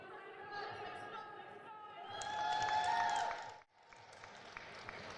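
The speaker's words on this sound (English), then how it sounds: "Great crowd reaction as well." Spectators at a British Classic bench press competition react, a crowd of cheers and clapping rising in the middle, cutting off abruptly, then settling to scattered noise under a commentator's talk.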